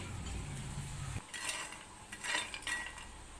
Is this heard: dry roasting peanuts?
yes